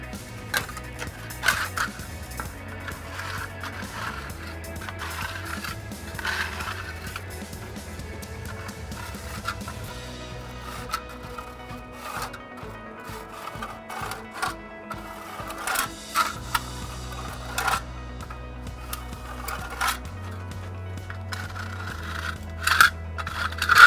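Scraping and rasping from a tool sculpting hardened Murex exterior filler on a wall corner, with irregular clicks and scratches over a low repeating hum, close and moderately quiet throughout.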